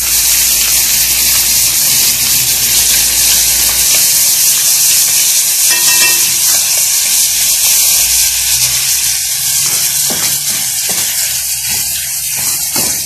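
Onions fry loudly in a pot for seafood soup, a dense bright sizzle that holds steady throughout with a few faint knocks of stirring.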